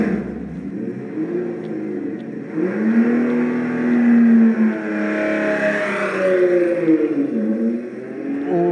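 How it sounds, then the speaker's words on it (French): A Matra V12 engine revs and rises in pitch, with sustained harmonic roaring that swells and falls, heard from a moderate distance inside a museum. "Et derrière, ce que vous entendez, le bruit, c'est le bruit du V12."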